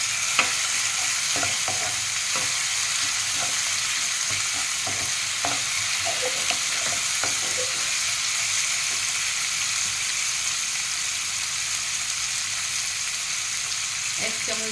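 Ginger paste frying with boiled tomatoes in a pan for a pointed gourd and prawn curry, giving a steady loud sizzle throughout with faint scattered scrapes of stirring.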